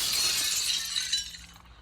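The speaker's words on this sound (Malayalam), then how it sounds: "ഇവിടുത്തെ ചില്ല് പൊട്ടിക്കാം." Glass shattering in the horror game Granny 3, a loud crash of breaking panes with bright tinkling fragments that fade out over about two seconds, no voices.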